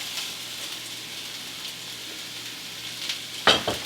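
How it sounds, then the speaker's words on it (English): Onions and peppers fry in a tablespoon of vegetable oil in a pan, giving a steady close sizzle throughout, with a sharper clatter of stirring near the end. "I'm throwing in those onions and those peppers"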